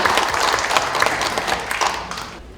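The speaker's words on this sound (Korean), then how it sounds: "여러분 다시 한번 박수 부탁드립니다" Applause from the audience at a book-launch talk concert as a Buddhist monk steps onto the stage to give congratulatory remarks, a short, dense burst of clapping fading near the end.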